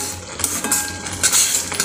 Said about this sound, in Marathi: हलवत राहायचं आहे